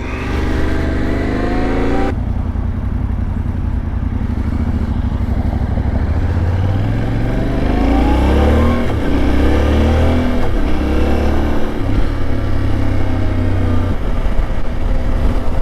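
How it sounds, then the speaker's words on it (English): A 2025 Yamaha Tenere 700 adventure motorcycle ridden on a commute, its engine droning steadily with rising and falling revs as it accelerates through gears, loud and close alongside constant wind rush. "we're on a 2025 Yamaha Tenere 700"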